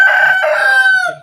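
A native chicken crows loudly and close by, one sustained rising call with clucking tones mixed in, lasting about a second.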